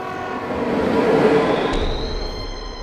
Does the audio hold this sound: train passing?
yes